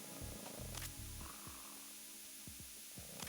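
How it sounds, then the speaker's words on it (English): Coolant spray from Metal Gear Solid 2 used on a guard: a brief hissing spray burst over a steady background hiss, mixed with low, blocky in-game thumps and short knocks, with no talking. "he's going to use the coolant spray to wake up the guard"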